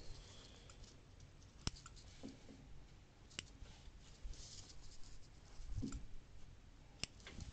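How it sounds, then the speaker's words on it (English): Scissors snip threads on a sewing project, giving several sharp, isolated clicks spread over a quiet, faint background. "Trim my threads."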